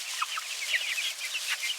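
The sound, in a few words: chickens clucking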